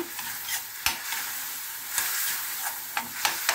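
Pechay, cabbage and squash sautéed with shrimp sizzle steadily in a pan, with a series of sharp stirring scrapes and clacks breaking through the frying hiss.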